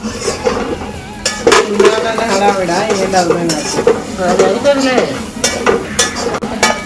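A spoon stirs chicken masala, coriander and rice in a pot, with a steady scraping and clinking rhythm over a light sizzle, close and fairly loud.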